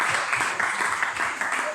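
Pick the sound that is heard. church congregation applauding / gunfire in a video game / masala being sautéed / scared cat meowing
church congregation applauding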